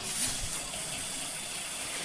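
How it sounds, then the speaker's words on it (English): Water from a shower sprays in a steady, close hiss that continues for about two seconds with no voices. "Standing under that spray of water behind the shower curtain, even more."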